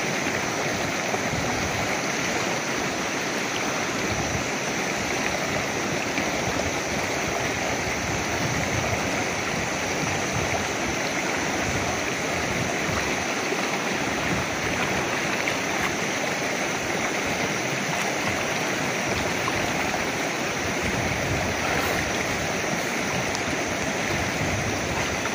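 A river flows with a steady, dense rushing wash of water, constant and close for the whole stretch, with no voices over it.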